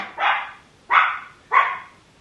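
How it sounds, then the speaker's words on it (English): A dog barks three times at an even pace, each sharp bark fading quickly, heard from a moderate distance with quiet between them. "I don't know what Louie's barking at"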